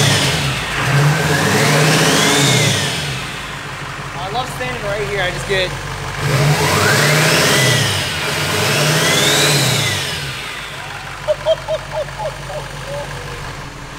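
A Duramax diesel engine fitted with a new big turbo, swapped into a K20, revs up hard twice in long rising pulls with turbo whistle, settling to a rough idle between, while people talk nearby.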